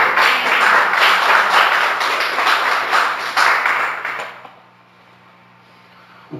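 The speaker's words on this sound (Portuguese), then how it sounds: "Você pode aplaudir o Senhor Jesus?" A church congregation applauds in praise of the Lord Jesus, a dense, loud wash of many hands clapping that holds steady for several seconds before cutting off sharply into near silence.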